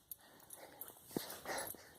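Beagle on a lakeside hike giving a few soft, faint whimpers and yips amid quiet outdoor rustling.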